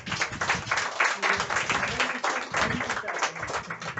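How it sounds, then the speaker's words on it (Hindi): Audience applause at an indoor business event at a herbal store, a dense, continuous wash of many hands clapping at moderate distance, with voices mixed in throughout. "सबसे पहले तो एक बार जोरदार ताली होना चाहिए"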